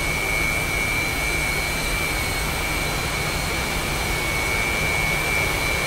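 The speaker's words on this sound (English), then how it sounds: "Nice supersonic flyby sound." A jet makes a low, fast flyby in the DCS flight simulator, a loud, steady, unbroken engine roar with a constant high whine throughout.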